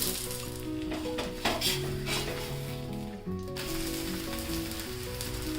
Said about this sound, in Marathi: दोन्ही साईडनी छान खरपूस भाजून घ्यायचे थालीपीठ